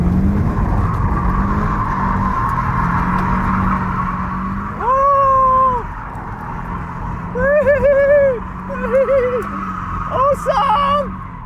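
A rally-bred four-wheel-drive Subaru Impreza WRX STI slides sideways, its engine rumble broken by several strained, wavering squeals that rise and fall in short bursts.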